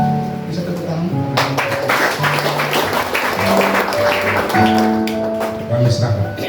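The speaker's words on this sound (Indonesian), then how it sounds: "Bisa tepuk tangan." A church congregation at a fasting service claps together, a busy mass of hand claps filling the space while sustained organ or keyboard tones play underneath throughout.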